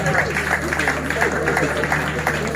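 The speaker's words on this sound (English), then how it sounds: "A round of applause once more." Applause at an award ceremony for a scholarship fund disbursement, heard as a brief, moderately loud patter of clapping mixed with crowd murmur and talk over a steady low hum.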